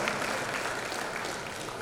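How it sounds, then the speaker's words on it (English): Event audience at the Social Innovators Programme and Awards 2022 applauding themselves, a dense, steady wash of clapping from a crowded hall that holds evenly for a couple of seconds. "are you applauding yourselves?"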